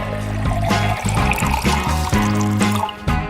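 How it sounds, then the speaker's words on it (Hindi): Blended watermelon juice with pulp is poured into a bottle, giving a few seconds of gurgling, glugging liquid that rises and falls in pitch, fairly loud and close. "अब हमें तरबूज का जूस एक बोतल में डालना है।"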